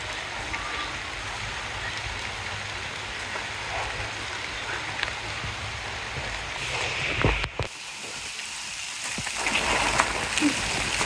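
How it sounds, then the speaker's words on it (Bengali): Steady rain falls outside a house, a broad continuous hiss that holds through the clip, briefly dipping near the middle before swelling again, with no voices over it. "দেখো কি বৃষ্টি আপেছে"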